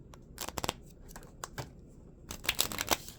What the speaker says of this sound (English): You shuffled, right?